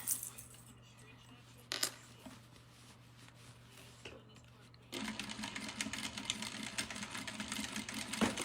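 A sewing machine stitches stretched elastic onto a simple skirt; after a quieter stretch with a few clicks, the motor starts up and runs in a steady, close whir until the end.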